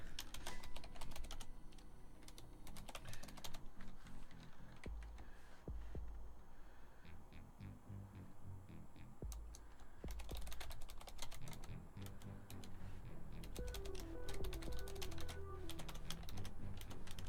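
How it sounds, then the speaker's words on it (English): Rapid clacking of a computer keyboard, bursts of fast keystrokes with brief pauses, close and fairly loud against a low hum. "Sorry for the loud keyboard clacking."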